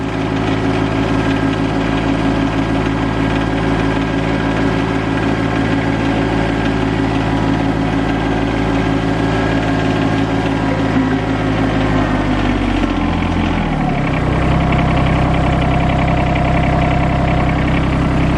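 A compact RK25 tractor engine idles steadily and close, a low rumbling drone that runs alone throughout, with a slight drop in pitch near the end.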